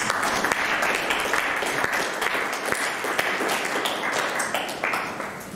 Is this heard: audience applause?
yes